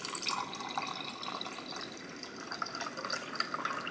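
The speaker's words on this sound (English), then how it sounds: "you can honestly just pour water in here" Water being poured into a mug with leftover lemon and ginger, a steady close splashing trickle running the whole time with small bright drips, no voices.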